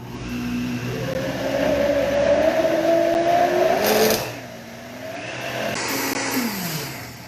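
A Vitamix blender runs loud and close, its motor whining up and shifting pitch as it churns a brownie mix, then briefly dropping before revving again.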